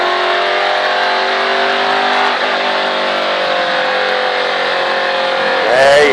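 A NASCAR stock car engine roars loud and close, holding a steady high-revving drone through a left turn, then climbing in pitch as it accelerates near the end.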